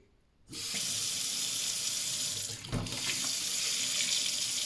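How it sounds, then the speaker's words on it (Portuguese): A kitchen mixer tap over a sink is opened to run hot water, and a steady loud rush of water starts abruptly after a brief silence and then continues with little change, close by, with one small knock partway through. "E podemos agora sim ligar a água quente."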